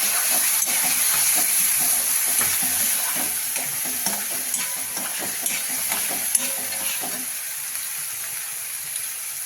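Soaked moong dal being sautéed in a pan while a dill greens dish is prepared, with steady close sizzling and frequent scraping stir strokes through the whole stretch, loud and without talk.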